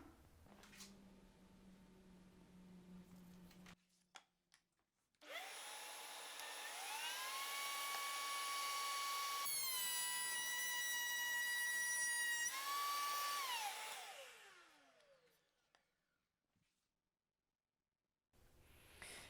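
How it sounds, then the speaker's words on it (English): Router cutting the end grain of 1/2 inch material, a loud high whine that rises as the bit spins up, holds through the cut, then winds down to silence. "whenever I route, I want to do the end grain first."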